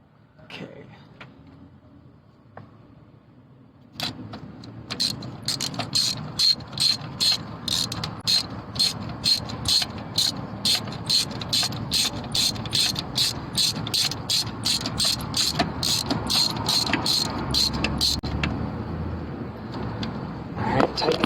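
A ratchet wrench turns in a long run of rapid, even clicks while tightening a part during a misfire repair on a car engine. The clicking starts a few seconds in, is close and loud, and carries on steadily to the end.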